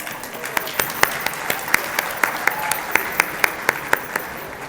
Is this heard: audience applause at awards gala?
yes